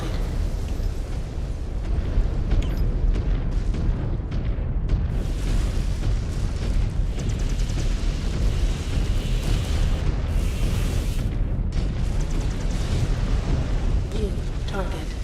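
Enemy mechs blow up in a MechWarrior 5 Clans battle, with heavy, rumbling explosions and booming bursts rolling on continuously, loud and close, overlapping one another in a dense barrage of combat noise.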